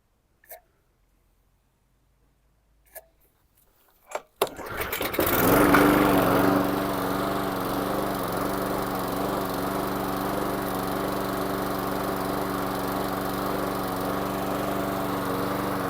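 A few sharp clicks and pulls lead into a small petrol lawn mower engine catching and roaring up, then settling into a steady, loud, continuous idle close by.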